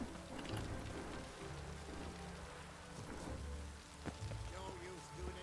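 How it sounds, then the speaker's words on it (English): Steady rain hisses across the world of The Witcher 3, a dense, even wash of drops holding at one level throughout, with faint mechanical clicks and low rumbling under it. "No use doing any work in this rain."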